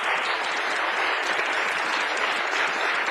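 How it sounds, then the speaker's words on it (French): An audience applauds steadily at a youth democracy tournament final, a dense, even wash of clapping that holds at a constant level throughout. "On peut applaudir encore une fois."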